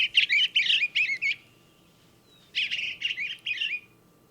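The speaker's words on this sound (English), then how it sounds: "Because it's the eastern bluebird." Eastern bluebird song, the Missouri state bird: two bursts of soft, warbling chirps, each a quick run of clear notes, separated by a brief pause and heard alone at moderate distance.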